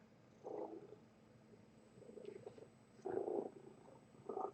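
A pet cat purrs softly and close by, the low rumbling coming in a few louder swells against a quiet background.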